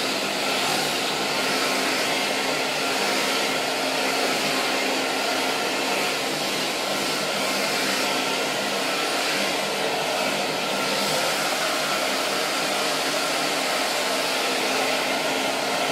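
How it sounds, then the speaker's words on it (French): A Babyliss Senseor digital hair dryer running on its fine-hair setting while drying hair, a steady loud airy whoosh with an even motor hum that holds unbroken throughout, with no voices. "je l'ai mis en mode cheveux fins pour que ça soit un peu moins violent le séchage"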